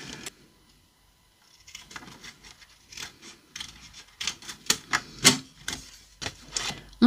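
Scissors snip through thick decorative craft paper, a run of crisp, close cuts that start sparse and then quicken into a steady rhythm of sharp clicks and rasps.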